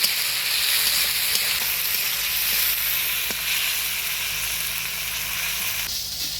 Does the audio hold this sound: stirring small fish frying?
yes